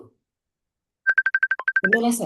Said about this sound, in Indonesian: Telepon. Ada ada yang masuk.